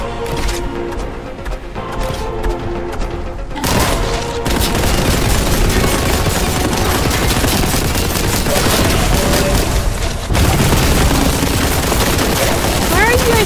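A Warhammer 40,000: Boltgun video game battle erupts with a grenade blast and dense gunfire: a loud, continuous barrage of rapid shots and heavy booms, with the roar swelling after the first few seconds.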